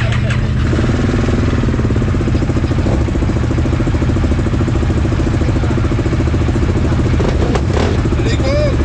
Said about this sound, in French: les 6 prochains, on démarre les moteurs